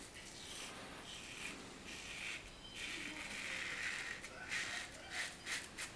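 Wet shaving with a Goodfella's Impero safety razor cutting through four days of beard, a steady close scraping rasp of blade strokes repeating across the whole stretch, fairly quiet and alone.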